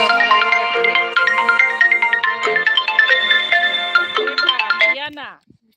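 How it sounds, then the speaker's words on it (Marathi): A loud melodic phone ringtone plays steadily for about five seconds with repeating tonal phrases, then stops abruptly; it rings close by in a home. "अन्नाचा फोन उचल ना ते ओरडतील"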